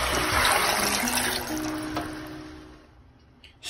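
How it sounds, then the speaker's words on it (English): A cup of water is poured into a pan of braising chicken wings and potatoes with garlic and ginger, a close splashing gush that tapers off to a faint trickle. "1 cup of water."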